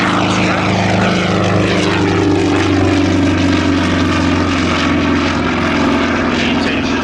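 A vintage homebuilt propeller aircraft flies at the Shuttleworth airshow, its engine a loud, continuous droning roar with a steady buzzing tone that persists throughout.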